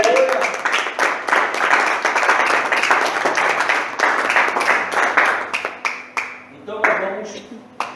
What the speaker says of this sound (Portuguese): Dê mais uma salva de palmas a Ele.